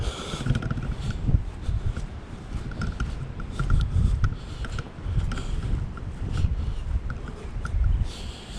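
Strong outdoor wind buffets the microphone in steady low gusts, loud and close throughout, with faint mechanical rattles now and then and no talk.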